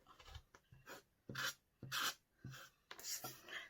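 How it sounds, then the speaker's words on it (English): A rotary cutter slicing through quilt fabric on a cutting mat in a series of short rasping strokes, each a brief scrape with pauses between, close and quiet. "get my rotary cutter, and then cut off"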